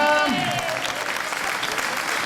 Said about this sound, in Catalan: Bon aplaudiment per Castellar